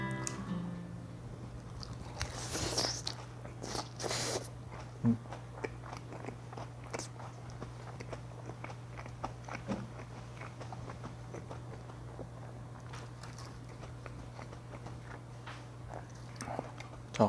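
Seasoned Korean yangnyeom fried chicken being bitten and chewed up close, with crunchy bites early on and then steady, moist chewing and small crunches over a low constant hum, with no talking.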